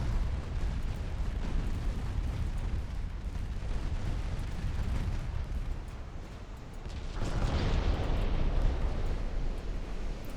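Torpedo explosions rumble through a naval battle in Ultimate Admiral Dreadnoughts, a continuous dense roar of booms and blasts that swells louder about two-thirds of the way through.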